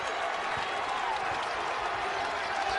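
A basketball arena crowd roars in a steady, dense wall of cheering and applause that holds at an even level throughout, with no clear talk over it.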